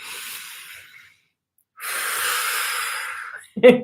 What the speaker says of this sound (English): So my whole sessions were these deep breathing.